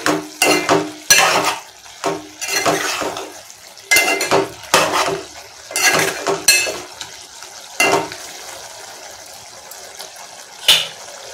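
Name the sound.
stirring coriander and cumin spices into curry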